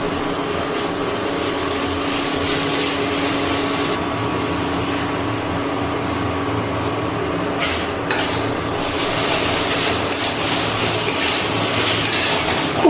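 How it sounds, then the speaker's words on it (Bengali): Chopped tomato being stirred with spices in a pan, a continuous close scraping and sizzling churn with a steady underlying hum, rough and even throughout, briefly brighter in bursts, and no one speaking. "এবার খুব ভালো করে মশলার সাথে টমেটোটা গলিয়ে নিচ্ছি"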